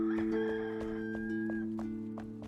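A video game rooster crows in a sustained, tonal call over a steady hum, with faint clicks in the background.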